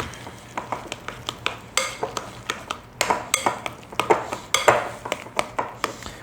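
A metal spoon stirs cream puff dough in a pan, giving a steady run of sharp scraping clinks and knocks against the metal, close and fairly loud, with no talking.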